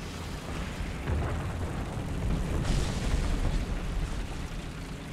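Enemy T-44 tank firing its main gun in the War Thunder tank battle, a dense booming blast with a rumbling low-end tail that swells and holds through a few seconds of continuous battlefield noise.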